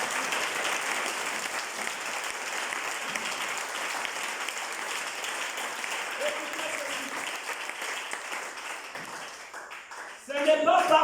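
Church congregation applauding to acclaim the Lord at a spiritual-warfare seminar in Moanda, a sustained, even wash of many hands clapping with faint voices beneath, then a sudden louder burst of sound at the very end.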